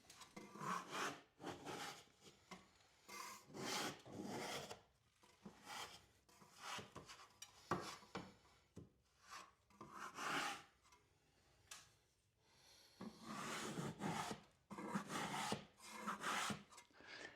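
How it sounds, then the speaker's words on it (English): A drywall mud scraper works along the edges of a popcorn ceiling in irregular bursts of faint scraping and rubbing, separated by short pauses. "This is just a normal drywall mud scraper that I'm going to get the edges with."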